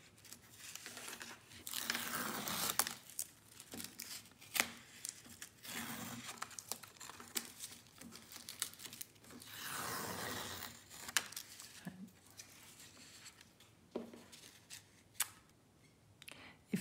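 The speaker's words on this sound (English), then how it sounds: "And now we should take the tape off." Masking tape being peeled off a watercolor card, heard as a series of close, faint crinkly tearing strips with sharp ticks and pauses between pulls.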